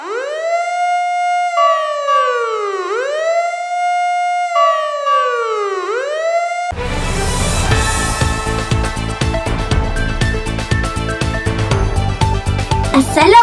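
A fire engine siren wails in repeated rising and falling sweeps, loud and close, then gives way abruptly to dense music for the rest of the clip.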